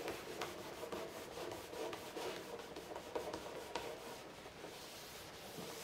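Scraping of dried glue squeeze-out from the show face of a maple bookshelf panel, steady close rubbing strokes with faint repeated ticks, continuous and moderately quiet with no talking.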